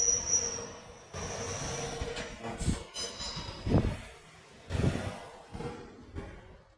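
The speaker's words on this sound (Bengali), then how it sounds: "এই ট্রেন যাইতেছে, এখান থেকে আবার ট্রেন ছিল।" A train passes along a bridge-like track at a moderate distance, a rumbling roll of wheels with faint squeals and a few louder clanks, no one talking.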